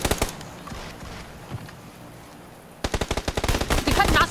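Automatic gunfire from a machine gun in the battle royale game PUBG: after a few early shots and quieter talk, a loud, rapid sustained burst rattles out close up in the last second and a half.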